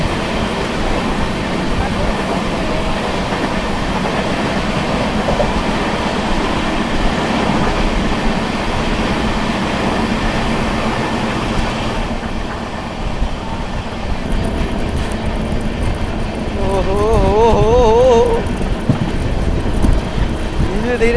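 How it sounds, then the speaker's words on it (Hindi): The Garib Rath Express, a passenger train from Bhagalpur to Anand Vihar, passes close by with a continuous loud rumble and rattle of wagons, under a voice talking. "भाई उधर देखिए आ गई, वाह गरीब रथ एक्सप्रेस भागलपुर से चल के"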